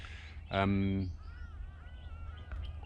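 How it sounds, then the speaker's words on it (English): Crows caw and other birds call outdoors in an early spring food forest with fruit trees in the Eastern Cape of South Africa; one loud harsh caw stands out near the start, followed by fainter overlapping chirps and whistles. "All sorts of birds flying around."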